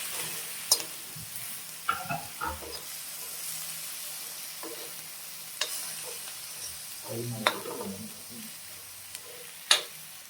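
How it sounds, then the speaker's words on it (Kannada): Green tomatoes frying in oil on a hot pan for chutney, a steady low sizzle with occasional stirring clatters and sharp utensil taps scattered throughout. "ನೋಡಿ ಫ್ರೈ ಮಾಡೋದಕ್ಕೆ ಸ್ವಲ್ಪ ಎಣ್ಣೆ ಹಾಕಿ"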